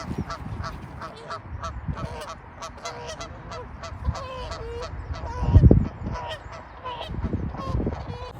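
A flock of geese honks repeatedly at moderate distance at a fishing lake, overlapping calls with a louder thump or splash midway.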